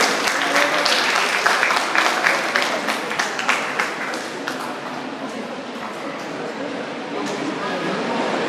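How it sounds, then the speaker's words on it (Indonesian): An audience bursts into applause at the opening of a psychology faculty's 30th anniversary celebration, loud dense clapping that gradually thins and softens over several seconds, with a voice heard over it. "mari kita sambut dengan tepuk tangan yang meriah"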